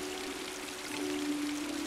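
Steady patter of rain falling from a cloud in the LostWinds 2: Winter of the Melodias video game, a soft continuous wash of drops with a faint tonal hum underneath.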